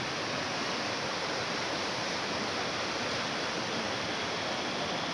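A flooded river rushes past in a steady, loud roar of flowing water, a continuous broadband wash with no voices.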